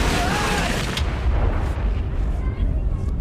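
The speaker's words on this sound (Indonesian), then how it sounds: "terdengar ledakan dari suatu bangunan" A building explodes with a loud, sustained roaring rumble, heavy low booming that fills the whole stretch with no clear break.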